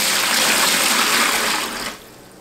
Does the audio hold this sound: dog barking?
no